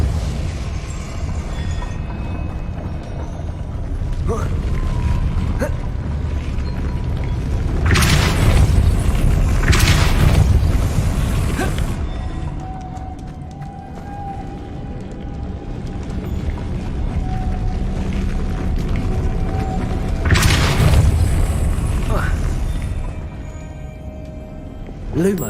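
Mechanisms shift with heavy rumbling grinds and deep booms in Hogwarts Legacy after a Depulso spell, loud and sustained with surging bursts around the middle and again later, echoing in a large stone space.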